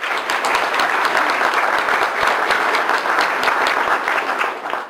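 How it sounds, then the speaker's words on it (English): Steady, dense audience applause fills a civic engagement recognition breakfast, holding at an even level throughout before easing off at the very end; no voices are heard over it. "so we could give him a round of applause"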